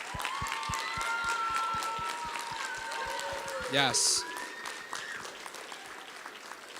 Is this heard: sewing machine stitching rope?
no